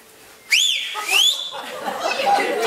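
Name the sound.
loud whistle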